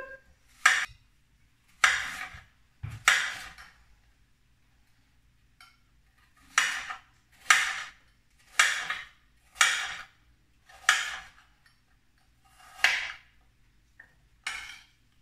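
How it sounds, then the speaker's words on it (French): A knife cuts an apple into cubes on a board, a dozen or so crisp, separate chops with short pauses between them, close and clear with no talk. "Alors notre pomme, on va la couper en cubes."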